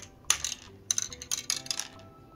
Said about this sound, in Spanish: Ya cayó un huevo.